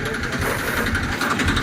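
A tractor engine runs nearby at night on a village work site, a continuous low, throbbing rumble that stays steady and close with no pause.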